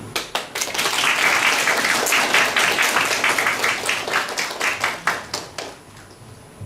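An audience at a university graduation ceremony claps steadily for award recipients, a dense sustained round of applause that tapers off into a few scattered final claps.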